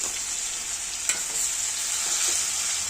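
Steady close sizzle of frying in a pan, with a bright continuous hiss and a few small pops and stirring scrapes, no voices.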